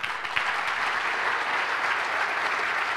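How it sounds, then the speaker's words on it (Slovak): Steady, dense applause from a large audience fills a Slovak athlete of the year awards ceremony, continuous and even throughout with no pauses. "Veľký potlesk."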